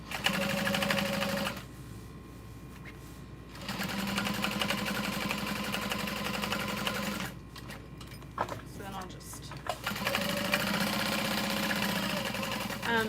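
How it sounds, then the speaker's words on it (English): A sewing machine top stitches a canvas bag piece interfaced with woven fusible backing, its rapid steady whirr running in long bursts that stop and start several times, with brief fabric handling and clicks in the pauses. "I'm only going to top stitch all the way around one of these pieces"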